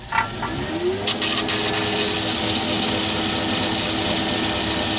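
A lathe skims a light facing cut across the back face of a long billet at about 760 RPM, a loud steady motor whine with a high tonal ring and a rising pitch at the start.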